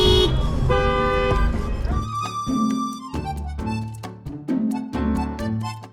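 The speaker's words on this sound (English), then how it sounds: "Of course, they honk back." Car horns honk in a busy street road-rage scene, a long blast at first, then a series of short, loud toots repeating in uneven rhythm close by.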